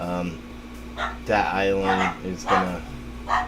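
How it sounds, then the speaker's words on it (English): Puppies bark and yip excitedly in the background of a room while a person talks over them, several short sharp barks scattered through the moment. "I apologize if you hear the puppies going crazy in the background"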